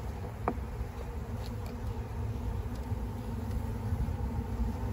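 Dense, steady buzzing of many honeybees close by as a package of bees is installed in a hive, a continuous low hum with a faint engine-like rumble underneath and no voices.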